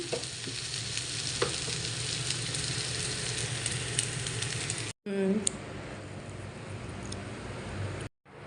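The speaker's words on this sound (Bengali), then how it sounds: "পেঁয়াজগুলা ভেজে নিচ্ছি মাছের জন্য, মাছ ভাজির জন্য।" Onions frying in hot oil for Bengali fried fish give a loud, continuous close sizzle with occasional stirring clatter, briefly cut off once and then resuming.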